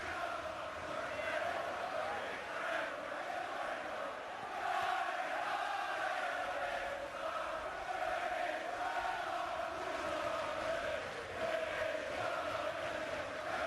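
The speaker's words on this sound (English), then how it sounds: "Everton fans in good voice" Everton supporters singing at an FA Cup fifth-round match away at Bournemouth, a steady, dense crowd chant carrying through the whole stretch with a sustained tonal swell.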